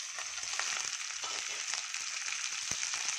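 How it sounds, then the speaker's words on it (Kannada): Carrot, beans, kohlrabi, fresh field beans and corn fry in a pan with a steady, dense sizzle and occasional soft crackles, loud and close, with no voices. "ಸ್ವಲ್ಪ ಇದು ಫ್ರೈ ಆಗಲಿ"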